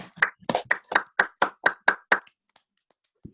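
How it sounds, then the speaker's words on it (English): Roughly ten distinct claps land at an even pace from a single person or a small number of people on an online call. They sound close and crisp, then give way to near silence. "we should thank you for a very beautiful exposition, Ian, and unmute and clap."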